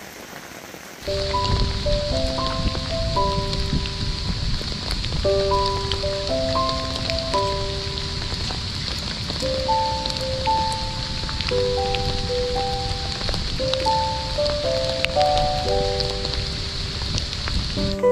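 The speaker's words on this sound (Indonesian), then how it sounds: "hujan masih terus mengguyur sampai kami tiba di dermaga Batu Kuda" Rain falls on a mountain forest on Mount Manglayang, the eastern end of the Lembang Fault, as a steady, even hiss. Melodic music plays over it throughout.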